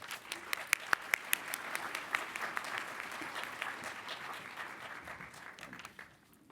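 An audience at an indigenous language revitalization panel applauds to welcome a speaker to the podium, a moderate burst of clapping that holds steady and then tapers off at the end.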